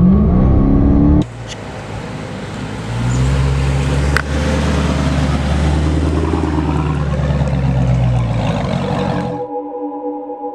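A Dodge Hellcat with a 707-horsepower supercharged V8 pulls away, its engine note rising into a loud, steady low roar that holds for several seconds before cutting off abruptly.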